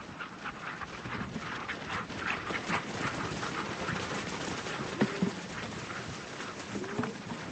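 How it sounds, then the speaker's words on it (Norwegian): A team of sled dogs pants and whimpers close by in a snowy Nordic setting, with steady breathing and restless scuffling over a soft noisy background, no voices. "der er 2 mand og en haug med bikkjer, som drar ud"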